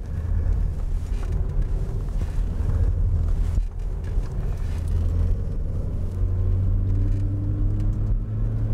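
Continuous car engine drone with wind buffeting the microphone as the car weaves in and out through a slalom course of cones, the engine note rising and falling slightly, close and loud, no talking.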